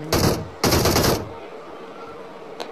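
Automatic gunfire in the mobile game BGMI, two short rapid bursts in quick succession, loud and close, followed by quiet game ambience and a faint click.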